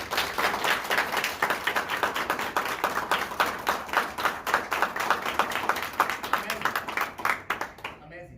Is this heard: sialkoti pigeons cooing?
no